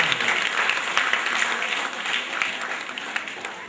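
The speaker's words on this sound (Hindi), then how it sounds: "एक बार यायावर को बधाई देते हुए जोरदार ताली से स्वागत करें।" A loud, dense round of audience applause welcomes a performer after a Hindi stage play, sustained clapping from many hands that tapers slightly toward the end.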